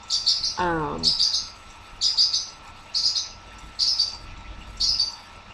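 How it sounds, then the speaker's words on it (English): Small birds chirp in the background in a regular series of short, bright tweets about once a second, with one longer descending trill early on; no talking, fairly close and clear against a quiet room. "a big apology to all the tweeting in the background"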